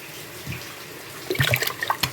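Water is poured over live snakehead fish as they are cleaned, giving a short, close splashing gush of about a second after a quiet start.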